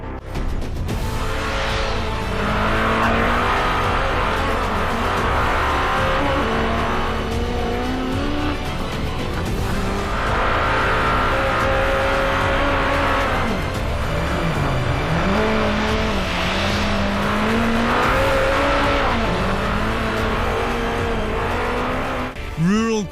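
An Audi Sport Quattro S1E2 rally car races up the Pikes Peak gravel course in Colorado, its engine roaring loud and close with repeated rising revs and gear changes, continuous and without speech.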